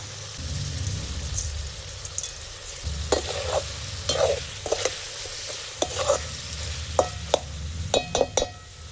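Vegetables with brinjal are being sautéed in hot oil for a village-style fish curry. A steady sizzle runs throughout, broken by repeated spoon scrapes and knocks against the pan, close and clear with no talking.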